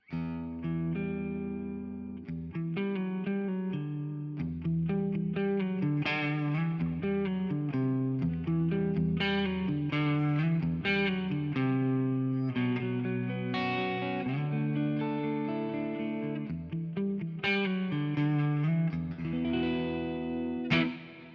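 Electric guitar played through a free AmpliTube 5 stereo rig with reverb on both sides, a continuous stretch of ringing, effected chords and notes that stays loud and full throughout, with no talking.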